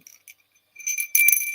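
A small hand-painted Delft Blue milkmaid bell, 4.5 inches tall, whose milk buckets strike the body, gives a few light clinks and then a bright, sustained high ringing. No voices.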